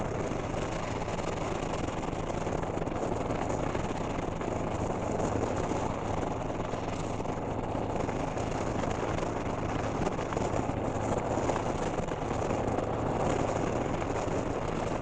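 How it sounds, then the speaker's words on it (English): Steady engine drone with constant wind rush, a continuous loud hum throughout as if riding along, with no voices. "I'm on a motorcycle."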